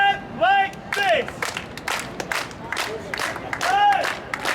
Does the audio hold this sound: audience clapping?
yes